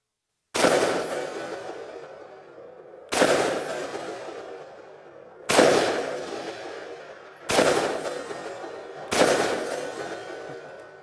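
An IWI Tavor X95 rifle fired at a range: five sharp, loud single shots spaced about two seconds apart, each a crisp crack followed by a long echoing decay, with no talking.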